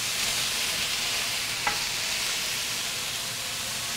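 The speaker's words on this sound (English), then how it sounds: "give that a nice little mix amongst the vegetables" Vegetables stirred with Chinese five-spice in a hot pan for vegan cauliflower fried rice: a steady, even sizzle broken by a single faint utensil click, with no talking.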